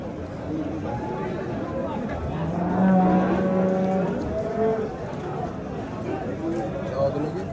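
A cow lets out a long, low moo in the middle, with people talking and a crowd murmuring in the background at a livestock market.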